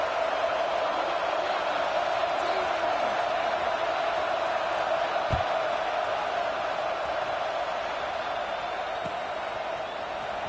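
Stadium crowd in the college football video game NCAA 26 roars as a steady, dense wash of noise throughout, with a faint thump partway through.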